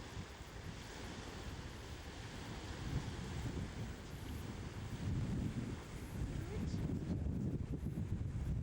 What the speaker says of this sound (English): The wind's changed direction.